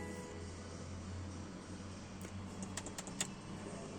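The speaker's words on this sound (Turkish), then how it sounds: "Şöyle bir kontak açalım." Inside a BMW G20 320i, the ignition start button is pressed, heard as a few soft, close clicks over a quiet cabin hum.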